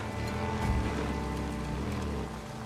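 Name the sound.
rain in a video game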